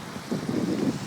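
Cold wind gusting across a seaside campsite by the ocean, a dull rushing buffet on the microphone that swells after a quiet start and holds steady for about a second.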